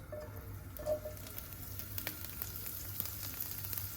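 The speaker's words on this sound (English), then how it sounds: "So I'll just stir fry my broccoli because I don't want to cook it in the sauce because it will lose the color" Broccoli stir-fries in hot oil, a quiet, steady sizzle with scattered pops and crackles and a few soft stirring scrapes, close by with no talking.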